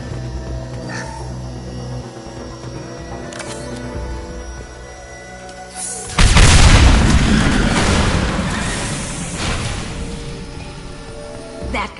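Fuel tanks blow through a wall in the video game Mass Effect: quiet game ambience gives way to a sudden loud blast, followed by several seconds of roaring, crackling debris and rumble.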